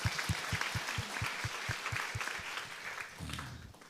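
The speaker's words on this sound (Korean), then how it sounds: "다 같이 하나님께 영광의 박수를 올려드리겠습니다." A church congregation at a Friday prayer meeting claps together in praise, with steady rhythmic handclaps, fairly distant and faint in a large room, fading out toward the end.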